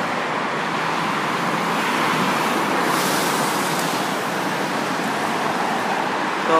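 Steady roadway noise from cars streaming past on a busy road at a traffic light, a continuous moderate wash of tires and engines with no talking.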